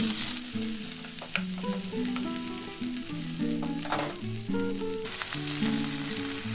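Chopped onion and green chilli sizzle in a pan of hot oil with black cumin, cooking for dim aloo bhujia; a steady, close, loud frying crackle continues throughout with no voices.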